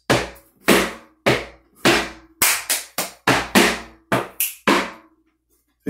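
Flamenco tangos footwork, a dozen loud, sharp, close stamps of the shoes on the floor in a quick syncopated rhythm, then a pause.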